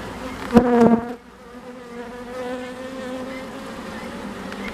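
Honey bees buzzing around a hive at an apiary, a close bee passes loudly near the start with a rising-falling whine, then softer overlapping buzzing continues steadily in the background.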